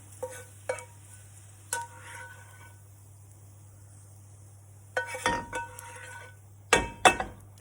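A spoon scrapes and clinks in a non-stick saucepan as softened onions are lifted out of butter, in scattered bursts with quiet gaps and a low steady hum beneath.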